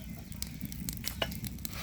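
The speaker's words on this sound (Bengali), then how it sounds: "এখানে ভাজতেছি, সামান্য একটু করে তেল দিয়ে ভাজা নিচ্ছি" Flatbread fries in a small amount of oil, giving a soft continuous sizzle with light spatters and brief scraping or stirring touches, close and fairly quiet.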